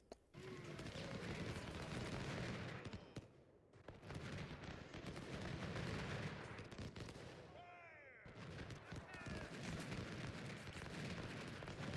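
Massed musket fire and cannon blasts crackle and rumble continuously in the Ultimate General: Civil War battle game, a dense, loud barrage of overlapping shots with short lulls between volleys.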